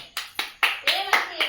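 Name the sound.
people clapping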